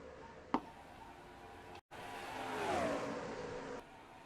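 Race car engines in a NASCAR-style video game race, the number 2 Miller Lite Ford among them, a droning engine note that rises and falls with a sharp tick near the start and a brief dropout midway.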